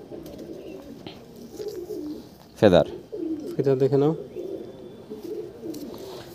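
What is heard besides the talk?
male pigeon cooing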